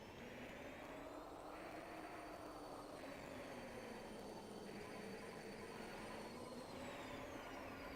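Train in an Armored Core video game, a steady droning rumble with a rising and falling whine and squealing tones, heard alone without talk.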